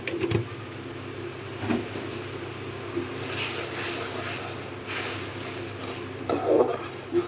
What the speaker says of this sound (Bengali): মশলাটা ভালো করে কষানো হোক।